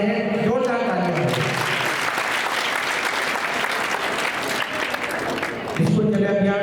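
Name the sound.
applause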